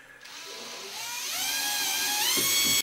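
A cordless screwdriver drives a screw into a recycled wooden pallet, its motor whine rising steadily in pitch and loudness before stopping abruptly, heard up close with no talking.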